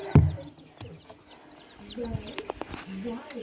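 Young chicks chirping softly in a small repeated series of high peeps, near but faint, with a brief thump at the start and some low background noise.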